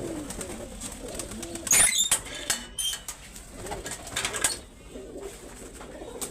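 Pigeons of a prized Punjabi breed coo and flutter nearby, a mix of soft throaty coos and wing rustles with some louder bursts, while someone talks faintly in the background.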